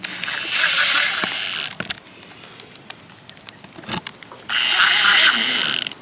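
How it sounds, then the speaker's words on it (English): A power drill drives screws through a shingle roof flange for an electrical service, giving two bursts of steady whirring at the start and end with handling knocks and scuffs in between. "Now we're going to screw it down."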